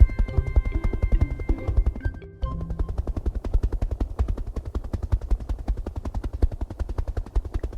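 A cartoon helicopter from a children's animated show about helper vehicles decorating a New Year tree flies with a loud, fast, steady rotor chop that continues throughout without any voices.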